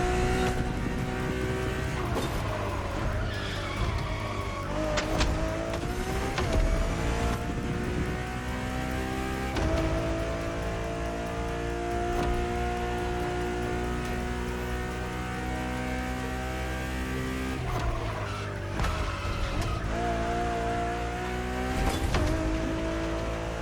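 A Ferrari supercar with a Pininfarina design, a road-legal Formula One–style machine in The Crew Motorfest racing game, roars with a loud, close engine note, rising and falling with revs and gear changes and no talk.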